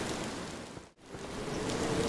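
Steady rain falls in the video game Hunting Simulator 2, a dense even hiss with a brief dip in the middle and no voices.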